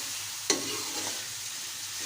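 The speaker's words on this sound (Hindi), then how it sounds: "इसको अच्छी तरह हम मिक्स कर लेंगे।" Chicken and tomatoes fry in a pan under a steady loud sizzle, with one sharp spatula clack near the start and soft stirring scrapes after; no speech.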